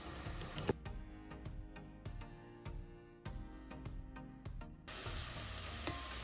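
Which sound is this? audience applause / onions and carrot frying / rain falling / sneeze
onions and carrot frying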